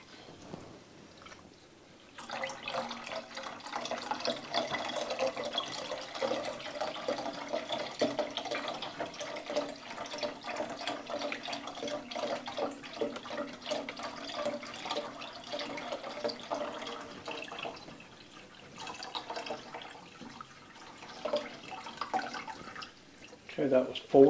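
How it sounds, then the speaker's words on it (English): Chicken stock pours steadily into a soup pot for broccoli cheddar soup, a continuous liquid splashing and gurgling lasting about twenty seconds, close and moderately loud, with a few kitchen clinks at the end. "Now you can pour in the chicken stock for me,"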